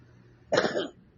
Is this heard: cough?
yes